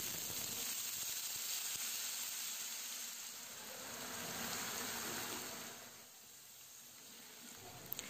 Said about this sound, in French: je commence par faire frire une grosse pomme de terre